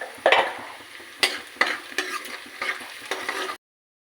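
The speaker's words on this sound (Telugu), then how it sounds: "ఈ ఉల్లిగడ్డ ముక్కలు కొంచెం దూరగా వేగేంత వరకు కూడా మనం వేయించుకోవాలి ఫ్రెండ్స్." Chopped onion pieces with turmeric frying in a pan for a bitter gourd masala curry: a continuous near sizzle with repeated scraping strokes of a spoon stirring, then a sudden stop.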